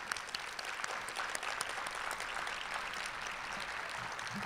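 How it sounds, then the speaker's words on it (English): An audience at a STEM summit lunch session gives a round of applause for a team standing to be recognized, a continuous, even wash of many hands clapping at moderate loudness, somewhat distant. "let's give them a round of applause."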